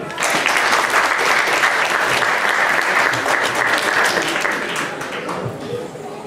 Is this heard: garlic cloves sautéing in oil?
no